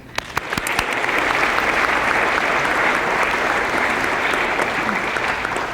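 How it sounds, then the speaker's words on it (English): An audience at a sports hall of fame induction ceremony applauds board and committee members, beginning with a few scattered claps and swelling into sustained, even applause from a large room. "give a round of applause to all the board and committee members"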